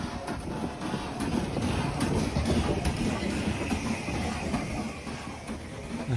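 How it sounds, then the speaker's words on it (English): A steam locomotive on the Isle of Wight runs along the length of a train, giving a steady, fairly close rumble and clatter of rolling wheels that continues unbroken, with no voices. "Here comes an engine from one end of the train to the other."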